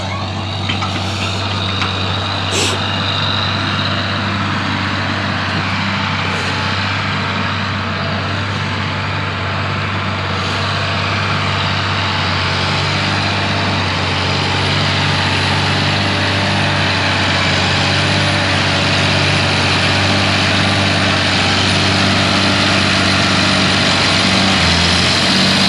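Two 850 bulldozers, a 210 machine and a dump truck work hard at a site. Heavy diesel engines drone loud and steady throughout, with a constant low rumble and rising, straining revs. No one speaks.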